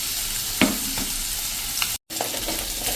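Green garlic, green chili and grated ginger sizzle steadily in hot tempering oil, a loud, dense hiss broken by occasional stirring clicks and a brief dropout near the end.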